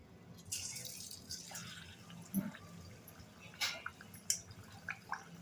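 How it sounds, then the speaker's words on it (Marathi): Malvani chicken vada dough slips into hot oil, giving faint scattered sizzling pops and soft crackles over a quiet background hiss. "तेल तापलेलं आहे आपण वडा घालूया"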